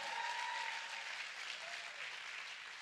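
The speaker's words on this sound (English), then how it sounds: "Clap your hands and shout." A church congregation claps during a sermon, a soft, continuous wash of many hands that stays distant and even for a few seconds.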